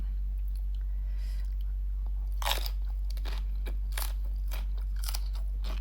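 Crunchy Thai chili paste with dried shrimp eaten with egg, heard as close, crisp bites and chewing crunches in irregular bursts over a steady low hum, with no speech.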